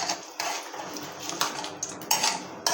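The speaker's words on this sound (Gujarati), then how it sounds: "આ રીતના હલાવી લઈશું" A metal spoon scrapes and clinks against a pan while stirring urad dal, with irregular taps over a steady frying hiss.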